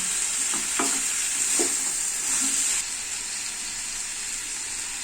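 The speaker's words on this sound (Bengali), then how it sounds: "সিদ্ধ হয়ে গেছে আলু গাজর এবং চিকেনটাও একটু সিদ্ধ সিদ্ধ হয়ে গেছে একটু ভালো করে আমি নাড়াচাড়া করে নিচ্ছি" Boiled potatoes, carrots and chicken being stirred in a pan for a chicken stew, a steady sizzling hiss with a few soft scraping strokes early on, the hiss dropping a little partway through.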